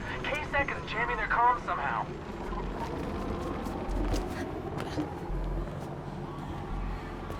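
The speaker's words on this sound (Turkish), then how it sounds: "Ne kadar çok helikopter var." A constant low rumble of helicopters in the Mirror's Edge Catalyst video game runs throughout, under a person talking and quick game sounds.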